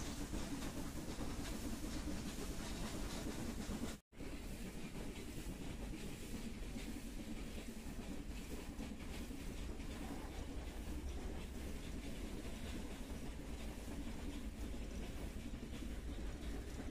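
The Mettupalayam to Ooty mountain train runs with a continuous loud rumble and clatter on a hill railway in India, with a brief break about four seconds in before the steady rolling noise carries on.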